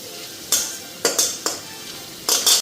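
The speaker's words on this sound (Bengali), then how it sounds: "একটু কড়কড়া করে ভাইজানি।" Bitter gourd slices fry until crisp in a pan, giving several short bursts of sizzling and stirring spaced across a few seconds, close and fairly loud, with quiet gaps between.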